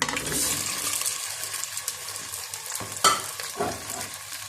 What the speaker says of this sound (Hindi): घी गर्म हो गया, अब मैं भिंडी डाल रही हूँ।